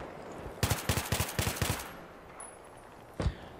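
Automatic gunfire rattles in the video game Battlefield 3 as a rapid burst of about nine loud, close shots, then a pause and a single further shot, with no talking.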